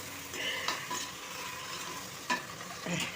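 Tomatoes and onions sauté in a clay pot, a steady soft sizzle running throughout while a utensil scrapes and stirs in a few distinct strokes, near and moderately quiet.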